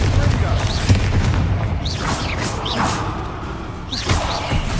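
Confringo fire spell in the Hogwarts Legacy video game, giving several booming blasts and whooshing bursts with rising streaks over a constant low game rumble and score, spread across the clip.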